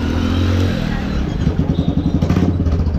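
Royal Enfield Bullet motorcycle engine fitted with a modified aftermarket silencer, idling close by with a rapid, loud thumping exhaust beat after a brief rumbling start.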